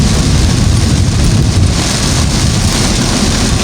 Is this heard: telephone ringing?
no